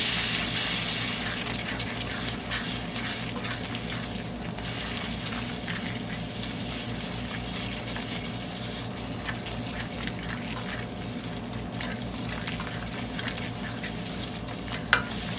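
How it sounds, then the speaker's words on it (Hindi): Spice masala with garam masala powder and salt fries and is stirred in a pan for a steady, close crackling sizzle, with light scraping throughout and no talk. "मसाले को अच्छी तरह से भून लें"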